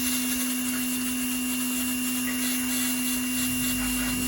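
Steady loud rush of air blowing through a VR6 engine port in pouring rain, a constant hiss with a strong hum underneath, continuous throughout.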